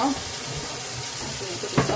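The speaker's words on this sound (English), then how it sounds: "I'm gonna rinse out our bowl." Water runs continuously from a kitchen tap while a bowl is rinsed, a close, steady splashing stream lasting about two seconds with a small clunk near the end.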